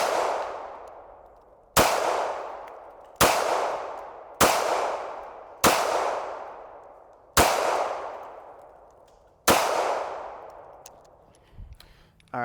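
Seven sharp pistol shots from a Smith & Wesson Bodyguard 2.0 chambered in .380 ring out at a shooting range, spaced one to two seconds apart. Each loud crack decays into a long echo.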